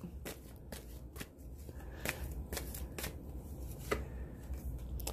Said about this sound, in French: Je pige toujours cette carte.